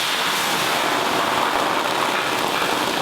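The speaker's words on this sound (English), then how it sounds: "So, we're going to pour in the beer." Beer pours into a pot in a steady, close hiss of splashing liquid that holds evenly for about three seconds, with no talking over it.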